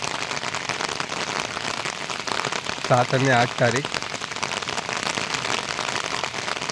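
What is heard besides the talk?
heavy rain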